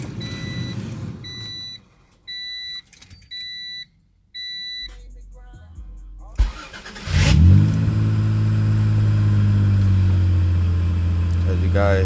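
An Acura Legend car engine cranks and catches, then settles into a steady idle, preceded by a series of repeated chime beeps before the start.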